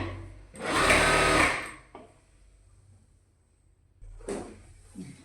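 A sewing machine stitches a double-folded hem on a nightie in two loud bursts, one long run near the start and a shorter one later, separated by quiet handling of the fabric.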